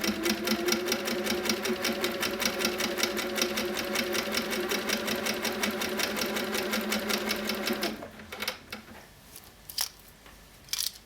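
HQ Sweet Sixteen quilting machine free-motion stitching, a rapid steady needle chatter running close and loud for about eight seconds before stopping, followed by a few faint handling clicks.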